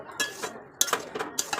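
A spoon scrapes and clinks against a pan while chili chicken is stirred, with green chili added. The contacts are light, close and irregular, about half a dozen over a short span, with no talking.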